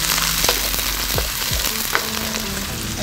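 Garlic and onions fry in hot oil for fried rice, giving a steady close sizzle with a few soft stirring scrapes and clicks across the whole stretch.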